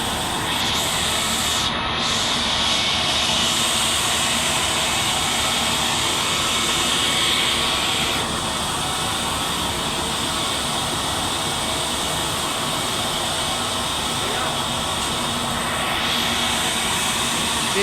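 Air India Express Airbus A320 jet engines roaring at an airport, a loud continuous broadband rush with a steady whine, sustained without pause and heard from fairly close.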